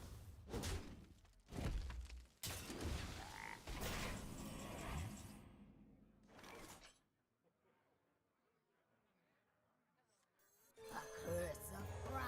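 Frog croaks from the Curse of Frogs card in Hearthstone, a few loud bursts of cartoonish croaking and clattering game effects over the first seven seconds, then near silence before the game sounds return.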